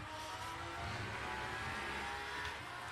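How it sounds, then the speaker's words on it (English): Aston Martin V12 race car engines in the Le Mans Ultimate racing game, a continuous dense engine roar from surrounding cars that holds steady without pauses. "you will hear the V12 from the other cars around you"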